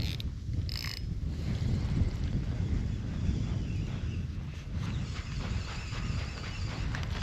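Strong wind blowing outdoors at a fishing spot, a steady loud low rumbling buffet across the whole stretch with no voices.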